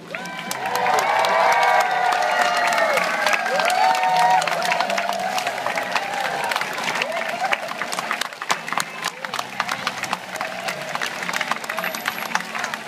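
Crowd at a zoo seal training show cheers and claps loudly and continuously, with scattered shouts and children's voices over dense applause that slowly thins toward the end.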